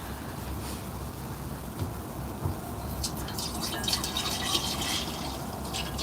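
Brandy and other liquors poured into a small pitcher make a soft, steady trickle that turns into brighter splashing liquid sounds toward the end, close and fairly quiet with no talk.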